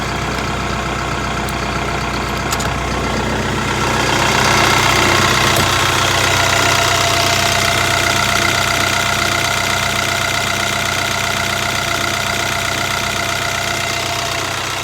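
A 140 hp Deutz diesel engine in a 2011 CLAAS Scorpion 7045 Plus Variopower telehandler idles close by, a loud, steady knocking rumble with a brief swell in level midway and no talking.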